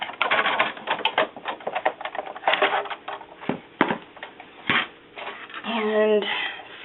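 A hand-cranked die-cutting machine pushes a paper craft sandwich through its rollers, giving a close, uneven crunching and rattling that grinds on for several seconds, with a squeaky creak near the end.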